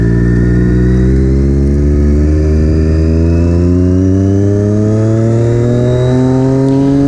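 Supersport motorcycle engine while riding on a commute, a loud, steady drone that rises smoothly in pitch as the bike accelerates, close and continuous with no talk.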